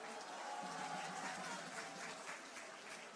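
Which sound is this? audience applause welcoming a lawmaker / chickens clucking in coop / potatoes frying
audience applause welcoming a lawmaker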